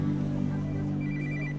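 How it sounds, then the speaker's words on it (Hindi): A telephone rings with a steady electronic tone, loud and close, lasting the whole moment without any talk. "फादर, आपका फोन बज रहा है।"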